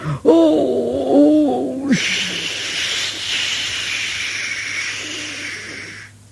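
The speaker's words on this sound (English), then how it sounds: "he had to let off steam to show how happy he was" A steam locomotive lets off steam: a loud, steady hiss bursts out after a few seconds of voices and continues for about four seconds before stopping.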